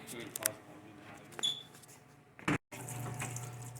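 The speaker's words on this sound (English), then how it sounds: "Now with the solvent I can rinse out" A 4L60 automatic transmission valve body is rinsed with solvent at a solvent tank. Faint, short liquid splashes and clatter come in scattered bursts, then a steady low trickle.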